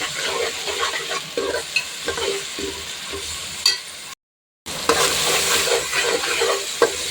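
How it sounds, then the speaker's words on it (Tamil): Ginger garlic paste sautés in a pan with a steady sizzle and frequent scraping stirs, close and continuous, broken by a brief gap of silence. "போட்டுட்டு நல்லா பச்சை ஸ்மெல் போகிற வரைக்கும் வதக்கி விட்டுடலாம்."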